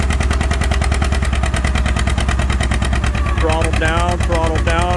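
An antique tractor engine pulls hard at a tractor pull, a loud, steady pounding drone up close, with an announcer's voice over it toward the end.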